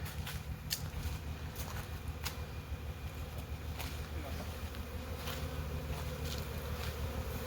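A dense, steady drone of many honeybees at a hive during honey super collection hums low and continuous, with faint scattered ticks and brief sharper buzzes passing close.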